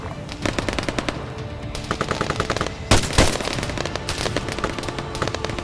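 Rapid machine gun fire in the military shooter Arma 3, dense bursts of sharp shots from several weapons overlapping, loud and close, with a heavier double blast midway and no talking.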